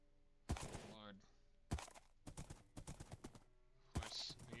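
Video game horse hooves clip-clop in short clustered bursts of hard knocks with pauses between, fairly faint, mixed with a few other game effects.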